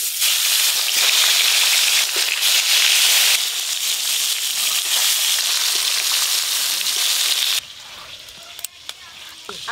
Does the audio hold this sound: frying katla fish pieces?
yes